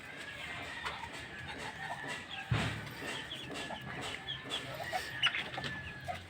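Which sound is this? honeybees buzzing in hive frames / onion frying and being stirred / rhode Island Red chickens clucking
rhode Island Red chickens clucking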